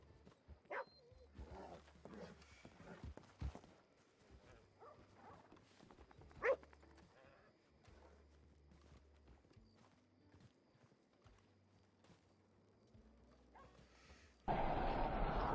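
A horse's hooves clip-clop in a video game, quiet, irregular steps over a low background drone, with a few sharper knocks and a loud burst of noise at the very end.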